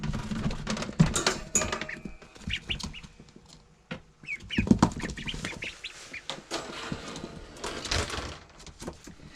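Ducklings shuffling and peeping inside a brooder with a heat plate, close scratchy rustles, thumps and bursts of chirping that come and go, no talk.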